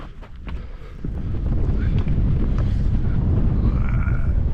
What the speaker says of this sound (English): the wind is starting to pick up and the clouds are coming in